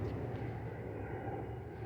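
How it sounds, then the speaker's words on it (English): Steady low roar of an airplane passing overhead, continuous and moderately loud throughout with no voices. "airplane flying."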